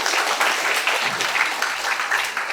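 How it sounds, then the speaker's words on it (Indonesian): Audience applause fills a motivational talk on work ethic: steady, dense clapping from a crowd, loud and close, holding evenly for the whole stretch without pause. "beri aplaus buat teman-teman semuanya"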